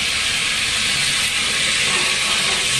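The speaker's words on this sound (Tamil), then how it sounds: "இப்ப கொஞ்சம் நெய் ஊத்திக்கலாம்." Ghee sizzles in a hot pan with a constant, dense hiss, close and even throughout without pauses.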